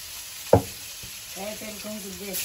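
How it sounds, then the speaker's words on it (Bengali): Pointed gourd (potol) frying in oil in a pan, a steady soft sizzle with one sharp clatter early on and a brief voice murmuring underneath. "এবার পটলটা ভেজে নেবো, আর একটু তেল দিয়ে দেবো।"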